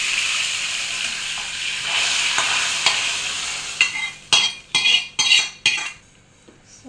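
A hot tempering with coriander and curry leaves sizzles and hisses as it is poured into moong dal rasam, followed by a quick run of loud metal spoon-on-pot clinks and stirring close by.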